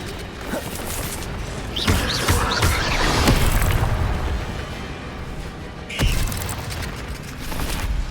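Incendio fire spell in Hogwarts Legacy, a series of loud whooshing, rumbling bursts with crackling impacts, swelling and fading over several seconds, a sharp hit near the end followed by another rising roar.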